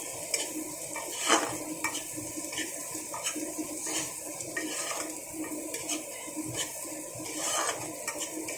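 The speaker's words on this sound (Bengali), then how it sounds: "পেঁয়াজটা ভাজা হয়ে গেছে" Onion frying over a low gas flame for mixed rice, stirred in the pan with repeated scraping and clinking of a utensil over a soft, quiet sizzle.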